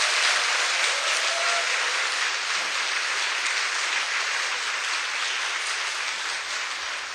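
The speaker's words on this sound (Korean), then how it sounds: "다시 한번 수고했다고 박수 한번 쳤으면 좋겠습니다" A church congregation applauds together, a steady, even wash of clapping that holds at moderate loudness throughout, with no talking over it.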